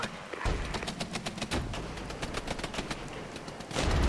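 Gunfire in the Regiments war game: rapid, dense bursts of shots crackle continuously at mid distance, rattling like machine-gun fire, with a heavier thump near the end and no voices.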